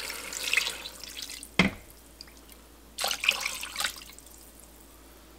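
A quart of tomato juice pours into a pot of chili in a few liquid glugs and splashes, close and moderately loud, with quiet pauses between pours.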